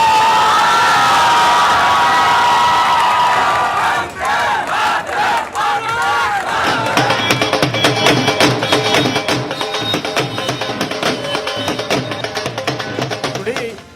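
A large crowd erupts in sustained applause, cheers and whoops after the Chandrayaan-3 moon landing at the south pole, loud and continuous, with rhythmic clapping building over the second half.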